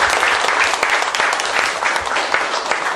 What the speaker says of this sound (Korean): 큰 박수로 함께해 주시기 바랍니다.